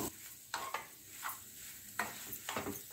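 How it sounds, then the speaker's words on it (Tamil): Grated boiled potato and green chillies sauté in a pan, giving a soft steady sizzle broken by several sharp scraping stirs of a spatula against the pan. "இப்போ நல்லா வதக்கிக்குவோம்."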